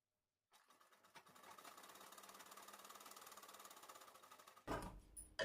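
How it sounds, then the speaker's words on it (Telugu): A sewing machine stitches a blouse seam, whirring quietly and steadily for several seconds before a short, louder burst near the end; no voices. "ఈ విధంగా పెట్టుకొని మనం కుట్టు వేసుకోవాలి"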